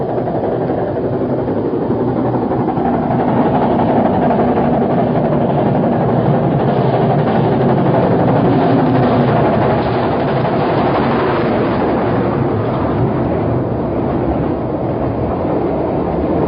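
A train runs through the Kuixian railway tunnel, a steady loud rumble with rhythmic clickety-clack of wheels on rail joints, continuous and enclosed for the whole stretch, no voices.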